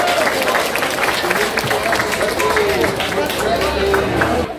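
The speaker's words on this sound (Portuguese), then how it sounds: "Palmas aí pra galera" Crowd clapping at a fandango festival on Ilha dos Valadares, continuous loud applause mixed with crowd chatter and some music-like tones, with a voice audible beneath.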